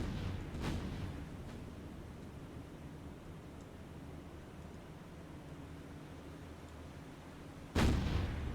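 Ship's guns firing in a naval combat game, a distant boom near the start followed by a low rumbling wash of battle noise, then a sharp loud blast near the end.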